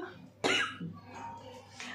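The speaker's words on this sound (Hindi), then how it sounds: "और खांसी भी मुझे उठ गया" A single sharp cough from a woman cooking potato and pea curry at home, close and fairly quiet, followed by a softer throat-clearing sound and faint background noise.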